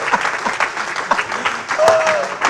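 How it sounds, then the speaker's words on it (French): Church congregation applauding and cheering during a sermon, a dense wash of clapping close by with voices calling out over it, steady for a couple of seconds. "Ça mérite des acclamations et des amens ici."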